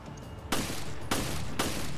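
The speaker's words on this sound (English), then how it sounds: "Might as well just shoot you from a distance." Three loud, separate gunshots ring out about half a second apart during Raid Mode in Resident Evil Revelations, each one a sharp crack that leaves a short ringing tail over a quiet background.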